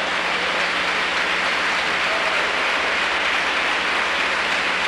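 A church congregation applauds during a sermon, a dense, steady clapping that holds evenly from start to finish with no voices over it.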